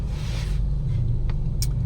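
Heavy road traffic sits queued at a standstill, giving a steady low rumble of idling car engines close by, with faint brief higher noises passing over the constant drone.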